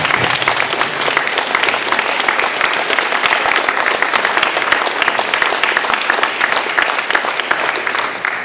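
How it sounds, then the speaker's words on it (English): A crowd at a youth planning meeting gives a round of applause, loud and continuous clapping that keeps a steady intensity until it tapers slightly at the end. "can we give him a round of applause?"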